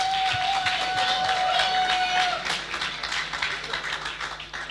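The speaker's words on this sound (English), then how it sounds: "A round of applause for the moderator" An audience applauds the moderator at the Lagos Digital Summit 2019 with dense, steady clapping that slowly thins out. A long sustained tone rings over the first half.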